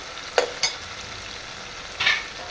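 Tomato masala for palak dal fries in oil that has separated from the cooked-down tomato, with a soft sizzle under a few brief spoon scrapes and stirs.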